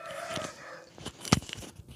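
An Aseel rooster crows loudly and close by on a farm in Pakistan, a single sharp call rising over faint clucking and general farmyard noise.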